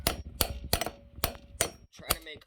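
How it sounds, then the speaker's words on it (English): A hammer smacks vice grips clamped on a grease zerk fitting on a Cub Cadet XT1 front wheel spindle, six sharp close metallic blows at an uneven, roughly half-second pace. "You want to set these vice grips somewhere where you could smack them with a hammer a little bit."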